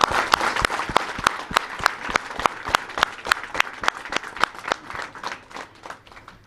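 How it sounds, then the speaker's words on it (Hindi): Steady, rhythmic hand clapping at a birthday celebration, a handful of sharp claps repeating evenly at a quick pace, moderately close, with no voices. "आप इतनी जोरदार तालियां बजाएं"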